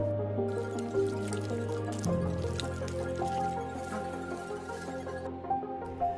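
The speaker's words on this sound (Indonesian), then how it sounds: "lalu menuang air ke dalam. Kemudian diaduk sampai rata" Water poured onto ground wild-grass powder and stirred until smooth, giving soft wet dripping and squishing sounds that continue with a steady liquid texture and no talking.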